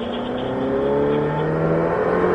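On a race track during a driving course, a sports car engine, a Ferrari F8 Tributo or Lamborghini Huracán, holds a loud, steady roar whose pitch climbs slowly as the car accelerates.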